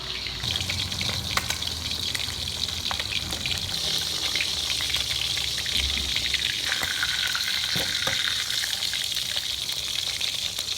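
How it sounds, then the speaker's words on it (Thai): Oil sizzles and crackles steadily throughout as sun-dried fish fries slowly, a continuous frying hiss with small pops, fairly close and without any talking. "ต้องทอดแบบใจเย็นๆนะคะทอดให้มันมีสีเหลืองกรอบนะคะ"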